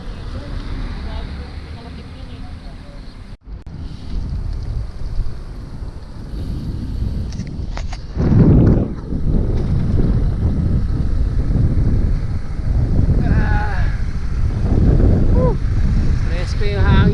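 Wind buffets the microphone in heavy, rumbling gusts throughout a bike ride outside Palayan City, Philippines, loud and close, as a person talks now and then underneath.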